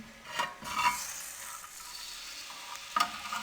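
Oil sizzles steadily in a pan as chopped garlic fries, with brief louder crackles near the start and again toward the end.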